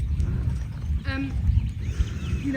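A horse walking during a riding lesson, soft hoof thuds on the arena ground with faint creaks and a snort, heard at close range under quiet background sound.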